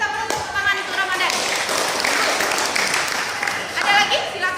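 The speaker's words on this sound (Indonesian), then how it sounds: "Oke, kita beri tepuk tangan untuk Ramadan." Elementary school classroom applauding a student, with lively clapping from a group of children, mixed with chatter and voices throughout.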